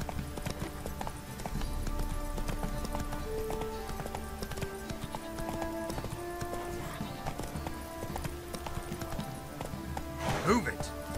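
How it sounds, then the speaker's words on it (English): Horse hooves clip-clop steadily in The Witcher 3 video game, a continuous trotting rhythm over game music and ambience, with voices talking and a brief horse whinny near the end. "time to water the horses."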